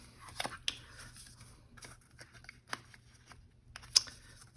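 Scissors trim paper around a vintage flower journal tag, giving a series of quiet, crisp snips at an uneven pace, close by, with no talking.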